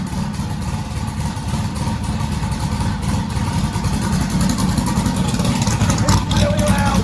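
A car engine idles loudly and steadily with a low rumble, close by, with a faint brief voice at one point.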